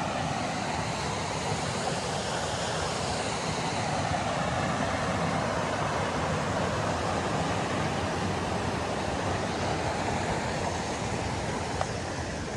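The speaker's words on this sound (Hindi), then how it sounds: "झरना तो बहुत ही अच्छा है" Rushing water from the waterfall at Karwa Dam, a steady, dense roar that holds at the same loudness throughout, close by, with no voices over it.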